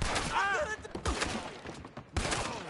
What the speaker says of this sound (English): You shot your buddy, dude.